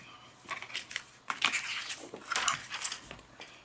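Scissors snip out paper pieces up close in a series of quick, crisp cuts with soft rustling, moderately quiet and with no voices.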